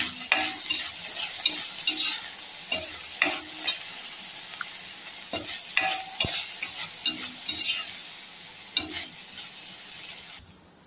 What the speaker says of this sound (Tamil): வாழைப்பூவையும் வதக்கிக்கணும்.